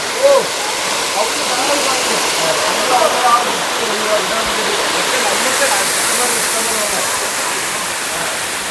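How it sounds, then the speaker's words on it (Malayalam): Water runs through small rocky channels at Thusharagiri waterfall in Wayanad, making a steady, close, full rushing hiss that holds even and unbroken from start to end. "അതിലൂടെയൊക്കെ ചെറിയ ചെറിയ നീർച്ചാലുകൾ പോലെ വെള്ളം വരുന്നുണ്ട്."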